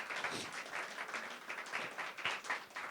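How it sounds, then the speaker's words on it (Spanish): A church congregation applauds during a Sunday service, with fairly faint but dense clapping that continues steadily from start to finish. "Démosle un aplauso y una alabanza al Altísimo Dios."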